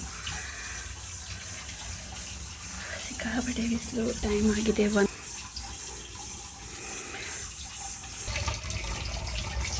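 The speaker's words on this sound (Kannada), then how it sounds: "ನೀರು ಸಹ ಚೆನ್ನಾಗಿ ಬರ್ತಾ" Water runs from a tap into a container with a steady splashing gush beneath a person talking, the flow continuing throughout.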